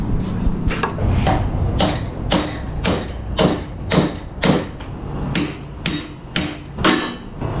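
A bent car strut plate from a Kia damaged by hitting a curb is hammered straight, about a dozen sharp metallic blows in a steady rhythm, loud and close.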